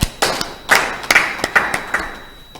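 A church congregation claps in acclamation of the Lord, a short burst of irregular, close hand claps and thuds fading after about two and a half seconds.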